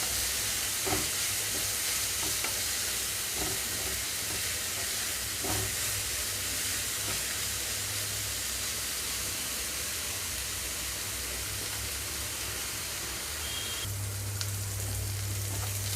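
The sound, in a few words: ridge gourd pieces frying in a pan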